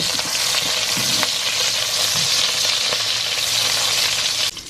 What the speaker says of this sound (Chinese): 锅里加入油，油热了，放入几片生姜和虾头，